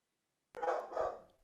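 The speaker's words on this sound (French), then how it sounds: "Il y a donc des petits chiens." A neighbour's small dog gives one short burst of barking that sounds slightly muffled and moderately close, with silence before it.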